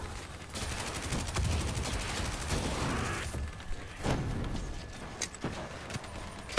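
Gunfire in the video game Black Ops 3: rapid automatic bursts and single shots crackle loudly in quick succession, with brief gaps between volleys.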